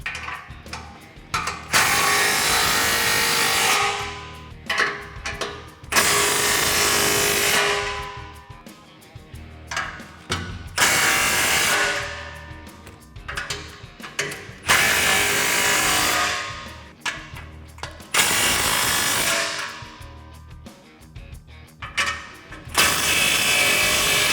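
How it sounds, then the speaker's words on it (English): A ratchet with a 15mm socket tightens the exhaust clamps on a Jeep Gladiator JT Borla ATAK dual exhaust, making loud close bursts of rapid clicking that repeat with brief pauses between them. "we're gonna go ahead and use our 15mm socket and tighten all the rest of the clamps down."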